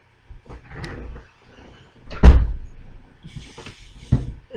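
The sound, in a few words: door that won't stay closed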